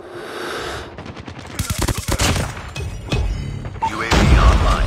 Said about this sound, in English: I got shot!